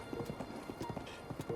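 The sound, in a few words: horse hooves clip-clopping in Zelda Breath of the Wild video game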